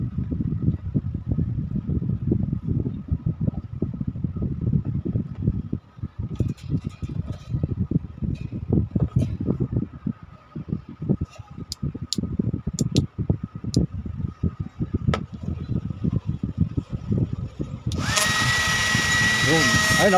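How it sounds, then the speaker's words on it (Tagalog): A repaired hair blower with a motor fault runs with a continuous whirring drone and uneven rattling bursts, and the drone rises to a steady loud roar at the end. Someone talks over it. "Tapos umikot na yung blower."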